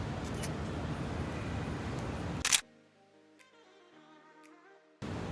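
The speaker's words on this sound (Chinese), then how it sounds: "那我们一样拍照" Low-light photo tests with an iPhone 12 Pro Max and an iPhone 13 Pro Max: a sharp, loud shutter click cuts off the steady background noise, followed by a quiet pause with faint tones and small ticks.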